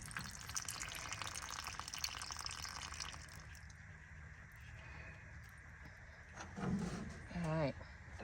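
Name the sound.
water pouring out of an overflowing freezer waterline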